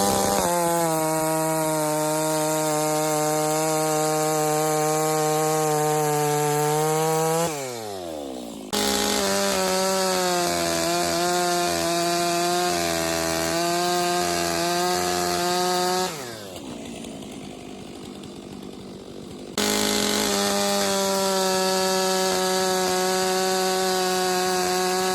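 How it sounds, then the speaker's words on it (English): Gas chainsaws, a Stihl MS 661 and a Farmertech G660 Pro clone, roar at full throttle cutting through an 11-inch ash log, with two brief dips as the engines drop between cuts before revving up again. "after doing a few test cuts with both saws on the 11-inch ash log"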